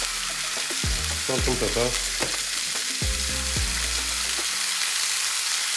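Meat cooks in its own juices in a pan with a dense, continuous sizzle, while a person speaks briefly over it in short phrases.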